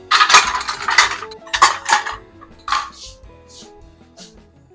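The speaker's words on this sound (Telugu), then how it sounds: "ఇవన్నీ కలుపుకుందాము, చెంచుతో కలిపేసుకుందాం." Metal spoon scraping and clinking against a pot while chicken biryani ingredients are stirred together, a series of bright clanks and scrapes clustered in bursts, close and fairly loud, then fading to lighter taps.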